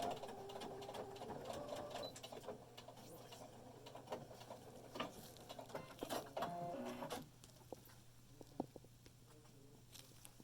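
A domestic sewing machine stitches a fabric face mask in short bursts of fast mechanical whirring, close and fairly quiet, with a steady low hum underneath that continues after the stitching stops.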